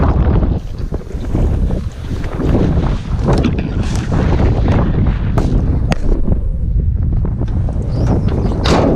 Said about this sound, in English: it's pretty dang windy out there